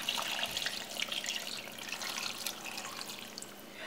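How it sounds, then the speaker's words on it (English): Cold filtered water pours into a stew pot holding vegetables and meat, a steady splashing trickle heard close and alone, easing slightly toward the end. "So now I'm just going to add about 3 to 5 cups of cold filtered water"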